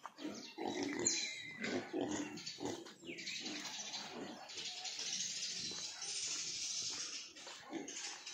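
Pigs on a farm, including pigs of around 60 kilos, grunt and snuffle close by in a steady, irregular series. Bursts of splashing or hissing noise sit over the animal sounds, and no one speaks.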